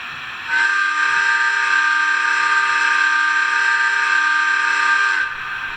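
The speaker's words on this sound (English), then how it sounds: "We have the Hancock air whistle." Hancock air whistle on a Rapido EP-5 electric locomotive model, one long steady chord-like blast of about five seconds, loud and close, starting and cutting off cleanly.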